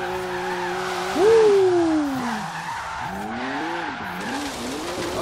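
Turbocharged BMW M2 power sliding in Forza Horizon 3, its tires squealing in a loud rising-and-falling skid over a steady engine drone, with a couple of shorter squeals following.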